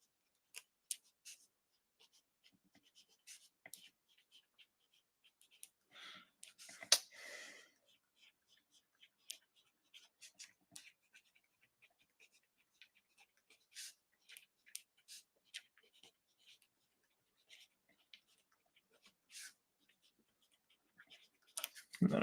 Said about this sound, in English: And then I'll just sign it again on the back.